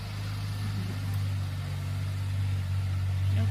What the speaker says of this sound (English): I'm just going to let this little truck go past with the gardeners on it